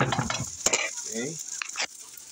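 Rice stir-fried in a hot pan for fried rice dim sum, heard as short scraping stirs and sizzling with a few utensil clinks against the pan, close up.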